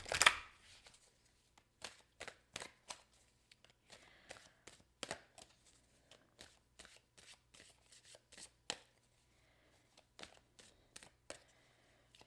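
Tarot cards, an Aquarian deck, being shuffled and cut by hand, with a quick riffle at the start and then irregular soft slaps and taps of cards close by in a quiet room.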